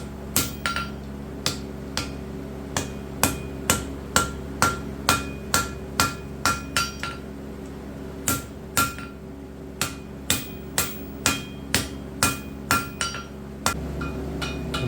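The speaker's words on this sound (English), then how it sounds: "once everything's hot, I just hammer over everything and evens everything out" Steady, evenly spaced hammer blows on hot iron at a forge while making a rushlight, ringing out one after another, close and loud, about two per second, with a brief pause near the end.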